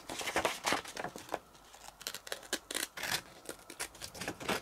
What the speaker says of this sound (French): on met un petit coup de ciseau